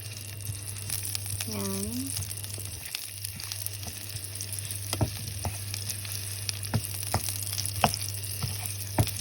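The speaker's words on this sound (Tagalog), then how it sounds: "Sibuyas. Gigisa lang po natin." Onions sautéing in a pan give a steady, close sizzle and crackle with occasional stirring clicks, under a constant low electrical hum; a brief voice is heard early on.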